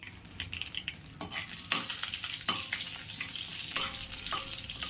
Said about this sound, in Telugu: ఆయిల్ హీట్ అయిన తర్వాత ఆవాలు జీలకర్ర కరివేపాకు వేసుకుని వేయించుకోవాలి